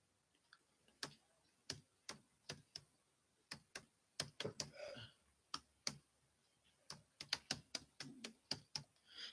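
Someone types an email address on a keyboard, quiet scattered key clicks in irregular runs and single taps, close but faint, with no talking.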